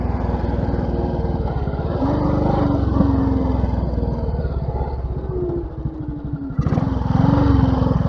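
Royal Enfield Bullet 500 motorcycle with sidecar thumping steadily under load as it is ridden, revs held high through downshifts with pitch rising and dipping, close and loud throughout with no talk.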